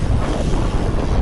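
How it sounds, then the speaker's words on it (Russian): Strong wind roars across the microphone while cycling at speed, a loud, dense, unbroken buffeting rush with no pauses. "и ветер вообще стал еще сильнее"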